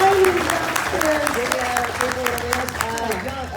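Steady applause from a convention Q&A audience for a guest voice actor continues under a speaking voice.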